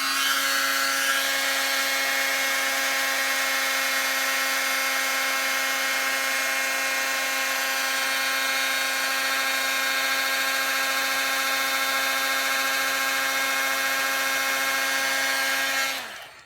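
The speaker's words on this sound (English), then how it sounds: "Get my heat gun, and I'm going to heat up" Heat gun running continuously to melt embossing powder, a close, loud, steady blower whine and rushing hiss that holds for the full length before switching off at the end.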